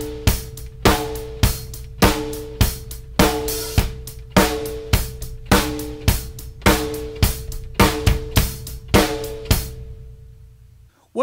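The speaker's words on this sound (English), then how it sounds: "it's just going to be that 4 on the floor with the snare on 2 and 4" A country drum groove in four on the floor: steady kick on every beat with the snare cracking on 2 and 4, played loud and close, repeating evenly with no one talking.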